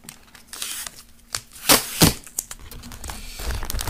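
Danger tape is pulled and torn while Christmas presents are being wrapped, giving irregular crackling rips and crinkles with two loud sharp tearing bursts in the middle, close and alone.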